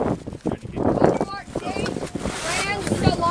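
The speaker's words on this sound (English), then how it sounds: "It is so windy, dude." Strong wind buffets a microphone outdoors at a youth baseball game, loud gusty roaring and rumbling that surges and fades while people talk over it.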